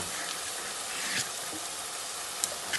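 Onions sizzling and frying in a pan as garlic paste goes in, a steady bright hiss throughout with a couple of brief sharper crackles near the end, close and fairly loud, no talking.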